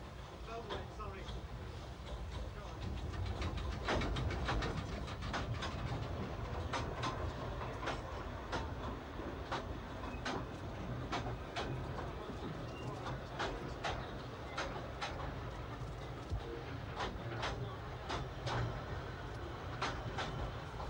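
A small Talyllyn Railway narrow-gauge steam train rumbles past with steady rhythmic clicking of wheels over rail joints, fairly distant, under a constant low rumble.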